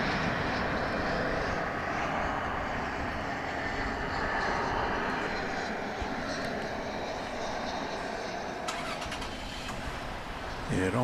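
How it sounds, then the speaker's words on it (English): An American Airlines Airbus A321 arriving from Phoenix at Dallas/Fort Worth airport, its broad jet-engine roar steady and fairly distant throughout, with some brief clatter near the end. "Got an American Airlines flight coming in at this time from Phoenix, Arizona, Airbus A321."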